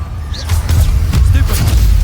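Blasting Confringo fire spells in Hogwarts Legacy, a run of loud booming bursts and crackles that follow one another closely, mixed with game effects.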